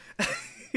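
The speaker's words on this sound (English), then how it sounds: "Cough, cough." Two close coughs: a longer, rougher one followed moments later by a short, sharp one, with near silence between.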